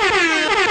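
A loud, sustained air horn blast holds one steady blaring tone with rich stacked harmonics for under a second, alone with no voices.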